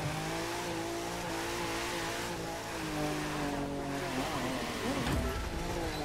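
A car drifts through a street-race skid event in The Crew 2, its engine droning loudly and steadily with shifting revs while the tyres slip across the tarmac, with no voices over it.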